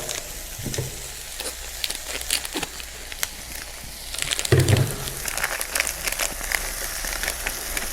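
Eggplant stir-frying in a pan for a stir-fried eggplant dish, a steady soft sizzle with scattered crackles and occasional scraping stirs, with a louder burst of frying midway.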